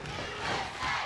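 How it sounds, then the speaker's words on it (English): Wrestling fans at a cage match cheering and chanting together, a dense roar of many voices swelling in two loud surges. "I hear the fans."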